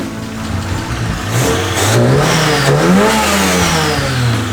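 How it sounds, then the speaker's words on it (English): A Mazda 121 car engine idles steadily, its low hum rising and falling as it revs up slightly and settles back, loud and close throughout. "engine's sounding pretty good. Idling happy now"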